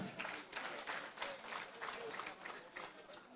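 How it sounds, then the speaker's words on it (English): An audience claps steadily at a half marathon awards ceremony in Homa Bay County. The applause is moderate and continuous throughout, with a voice speaking over it. "let us give a good clap, Cynthia Jerop."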